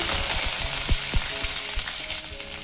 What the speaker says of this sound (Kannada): ಎಣ್ಣೆ ಕಾಯ್ದ ನಂತರ ಒಂದು ಸ್ವಲ್ಪ ಸಾಸಿವೆ ಹಾಕೊಳ್ಳೋಣ ಸ್ವಲ್ಪ ಜೀರಿಗೆ ಹಾಕೊಳ್ಳೋಣ ಕರಿಬೇವು ಹಾಕೊಳ್ಳೋಣ